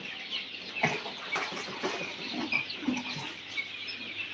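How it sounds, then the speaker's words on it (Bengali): Three-day-old broiler and Fayoumi chicks at a hatchery farm in Khulna keep up a steady, dense chorus of chirping and peeping that fills the whole stretch, close by and with no talking. "এই যে দিয়ে দেখতে পাচ্ছেন ব্রয়লার রয়েছে পাশে আছে ফাউমি তিন দিন বয়স"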